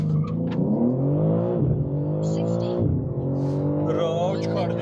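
A BMW M3 CS (G80) pulls away hard from a standstill, its engine note climbing steadily, dropping briefly at gear changes and rising again, loud and close throughout.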